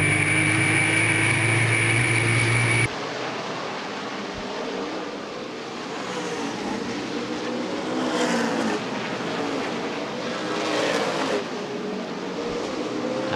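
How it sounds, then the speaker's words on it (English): ARCA/CRA Super Series stock cars roar around Winchester Speedway during the World Stock Car Festival 100, a sustained rumbling pack with engine surges rising and fading, preceded by a brief steady tone. "Super Series cars flying around this Winchester Speedway"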